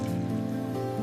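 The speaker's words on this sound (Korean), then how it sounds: "빗소리가 음악처럼 들려요." Rain falls steadily on a surface outside a café, a soft continuous patter that stays even throughout with no voices over it.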